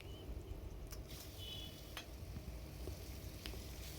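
Cut chicken and vegetables frying over a high flame for whole wheat chicken noodles, a steady close sizzle with a few brief stirring clinks, no talking.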